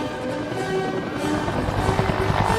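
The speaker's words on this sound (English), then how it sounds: "We hear you in the chopper hovering above something." A chopper sound hovering overhead, a steady rotor drone with low rhythmic thumping that holds at a fairly even, moderate level throughout, with no talking over it.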